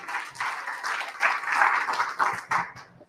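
Sustained audience applause fills a large hall at a speaking event on building strong Black male and female relationships, dense clapping swelling and easing with a few sharper bursts near the end.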